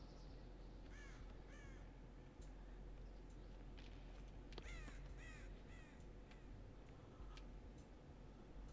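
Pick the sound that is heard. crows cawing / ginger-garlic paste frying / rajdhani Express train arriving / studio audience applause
crows cawing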